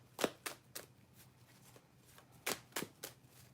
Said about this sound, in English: I don't want to sit here forever shuffling.